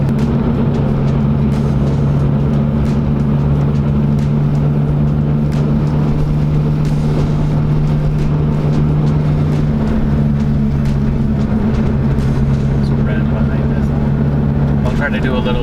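A six-speed manual Mazda 3 climbs a steep mountain road in third gear, its engine holding a loud, steady drone from inside the cabin throughout, with some talk in the car.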